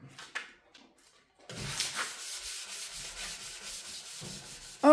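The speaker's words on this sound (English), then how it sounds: "I'm going to finish sanding it up" A few light scrapes, then steady rhythmic rubbing strokes of sanding epoxy primer on a car body, close and fairly quiet.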